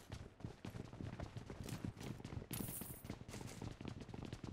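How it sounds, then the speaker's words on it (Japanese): Rapid, dense gunfire from a video game crackles continuously, sharp repeated shots layered into a busy, constant clatter without a break. "これ銃声が聞こえた。"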